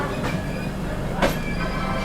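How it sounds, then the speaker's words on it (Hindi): An Indian Railways superfast express pulls away from Kanpur Central station, a steady low rumble of rolling coaches with a brief squeal near the middle, fairly loud and continuous. "तो अपनी सोहेल देव सुपरफास्ट एक्सप्रेस निकल चुकी है कानपुर सेंट्रल से"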